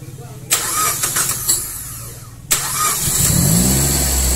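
A Suzuki Swift engine cranks with the starter and catches, a sharp start followed by a second cranking burst, then settles into a steady idle and a slight rev, close by during RPM adjustment.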